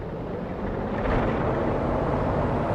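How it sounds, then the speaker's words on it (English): Cirrus SR22 piston engine in the X-Plane 12 flight simulator, a steady broadband drone that stays loud and constant throughout with a slight swell partway, no voices over it. "Listen to those engine sounds, ladies and gents."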